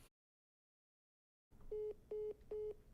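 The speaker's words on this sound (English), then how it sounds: "You heard the sort of the phone call ending tone there" Three short, evenly spaced electronic tones sound clearly on a live news broadcast as a phone call ends, following a moment of silence.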